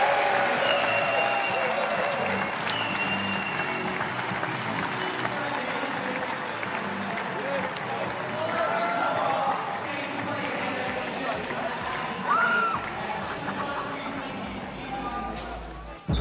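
Crowd applause and cheering at a professional squash match in London, sustained loud clapping filling the venue with a few whoops and calls, under a commentator's voice.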